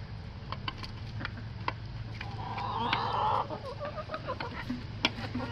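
Several young laying hens cluck and squawk nearby, one rising into a longer drawn-out call midway, over a low steady background hum.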